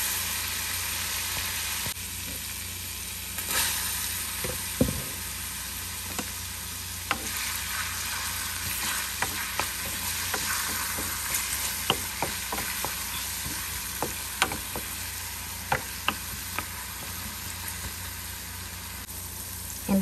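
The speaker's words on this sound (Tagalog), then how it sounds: "Iprituhin muna natin yung garlic." Minced garlic sizzles steadily in a hot pan, a continuous crackling fry with scattered sharper pops and the occasional clink of a utensil stirring, close and fairly loud throughout with no talking.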